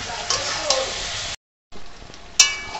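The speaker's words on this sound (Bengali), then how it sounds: "দেখুন চিকেনটা ঠিকভাবে কষানো হয়ে যাচ্ছে আস্তে আস্তে" Chicken stir-fried with masala paste in a pan gives a steady sizzle with light spoon clicks, a short silent break, then sizzling resumes with a sharp clink.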